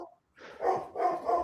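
Dogs barking at home during a veterinary software podcast call: a short yip, then a quick series of close, sharp barks, loud and alone.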